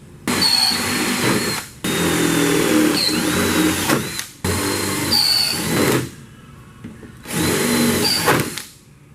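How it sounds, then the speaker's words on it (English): A power drill whines in four long bursts separated by brief pauses, loud and close, with no talking, drilling holes while working on a Dodge grille. "That's where we got to drill some holes."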